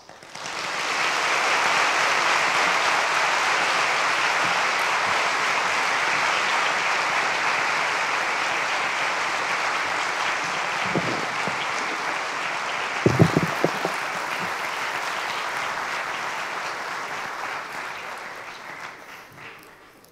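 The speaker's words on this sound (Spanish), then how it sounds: "Por favor, recibámoslos con un gran aplauso." Sustained applause from an audience at a book launch event, swelling quickly and holding steady for about twenty seconds with a few sharper claps near the end before fading.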